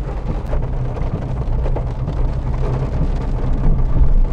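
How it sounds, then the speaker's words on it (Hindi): Heavy rain and thunder from inside a moving car, a steady loud wash of rainfall with deep low rumbling underneath, continuous throughout with no talking. "देख सकते हैं कि कैसे बारिश हो रहा है"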